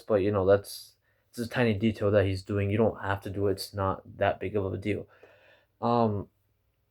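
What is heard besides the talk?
No everyday noise stands out behind the speech.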